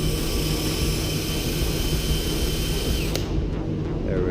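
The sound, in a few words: wire wheel cleaning a weld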